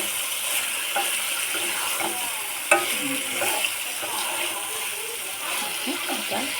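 Hilsa fish frying in oil in a pan, a steady close sizzle with occasional soft stirring scrapes and a faint running-water hiss underneath.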